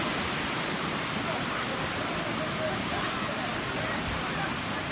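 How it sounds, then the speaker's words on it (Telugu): The Kottapalli waterfall near Paderu sends cold water tumbling over hills in a dense, steady roar of rushing water that drowns out everything else. "ఈ కొండల మించి దబా దబా పడుతూ ఉంటుంది చల్లగా నీళ్ళు"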